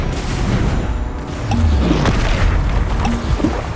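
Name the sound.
Confringo explosive spell blast in video game Hogwarts Legacy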